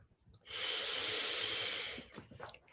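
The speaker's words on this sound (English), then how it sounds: "take a nice deep breath" A slow, deep breath is drawn in and released, a soft airy rush lasting about a second and a half, close and quiet in a calm room.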